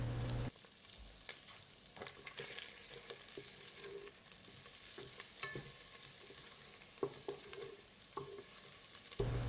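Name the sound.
sautéing chopped garlic in melted butter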